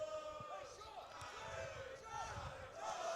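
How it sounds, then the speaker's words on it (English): A football crowd at an Alfreton Town versus Spalding United FA Cup qualifying match chants a player's name, a dense roar of many voices rising and falling continuously throughout, with voices on top. "the crowd are chanting his name"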